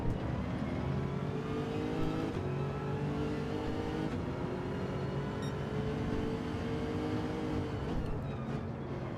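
Lexus RC F race car in the Gran Turismo video game, its engine droning continuously with shifting pitch as it revs and changes gear, loud and close for the whole stretch.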